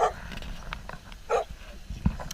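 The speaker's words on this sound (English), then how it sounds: "I love dogs. Come here." A dog near a walking trail in the Palmerston North area of New Zealand gives a few short, moderately distant barks and yips over steady outdoor background noise.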